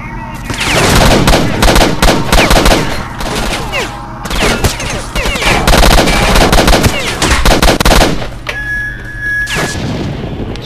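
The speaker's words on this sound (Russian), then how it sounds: "Там из Гауссовски стреляют." Rapid bursts of Gauss rifle gunfire crack and boom almost nonstop in S.T.A.L.K.E.R.: Shadow of Chernobyl, loud and dense with brief pauses, and a thin electronic tone rings near the end.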